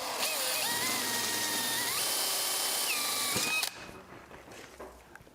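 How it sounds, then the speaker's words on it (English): A power drill with a 1/4 inch bit bores through a saw plate on a Cuthub workstation, giving a loud steady whine that shifts pitch as the bit bites, then cuts off and leaves faint rattles. "you're just going to take your 1/4 inch drill bit, and you have to line up straight down through"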